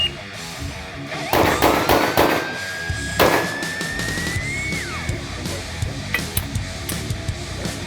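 Gunfire at a shooting range, a loud sharp report followed by a ringing tone and a second blast, then scattered fainter pops and clatter in a noisy, reverberant space, with no talking.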